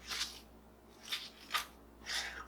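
Lettuce is cut into bite-sized pieces for a winter salad, four crisp, faint snipping cuts spaced about half a second apart in a quiet room.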